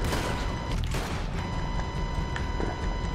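Gunshots in the Red Dead Redemption 2 online video game ring out as scattered, booming reports over a dense wash of outdoor noise during a bounty hunt, with a few sharper shots standing out.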